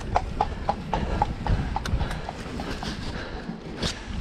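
Horse hooves clip-clop at a steady walking rhythm along an off-piste trail at Llandegla, close and distinct over rustling outdoor background noise, with no talking.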